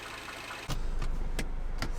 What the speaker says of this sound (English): So the Mini is warmed up